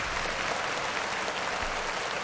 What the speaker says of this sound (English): Clap it up for Rolex.